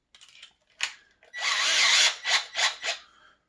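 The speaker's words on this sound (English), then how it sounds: "as you drill the hole." Power drill boring a hole through drywall to mount a guitar wall hanger, a few short taps, then a sustained whirring bite followed by three quick bursts as the bit pushes through, close and loud.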